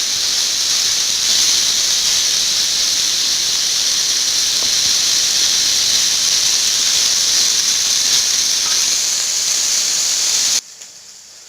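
Steady, bright sizzling hiss of vegetables frying in a pan for chop suey, continuous and fairly loud, dropping off abruptly near the end.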